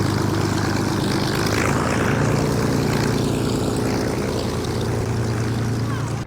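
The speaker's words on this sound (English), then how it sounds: "This aeroplane's just started up. It sounds about as loud as Steve's Z4." Steady, loud propeller aeroplane engine drone just after start-up at Goodwood, running throughout, a continuous low rumble with a buzzing tone, close by and without talk.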